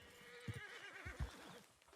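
A large Shire horse in the Red Dead Redemption 2 video game gives a quiet, faint whinny, with a few soft hoof clops underneath and no talking.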